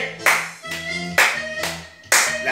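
Several sharp hand claps ring out in a steady, slow rhythm during a seated exercise class, each loud and crisp with a short trailing echo, under background music.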